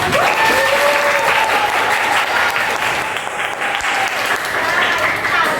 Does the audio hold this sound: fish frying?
no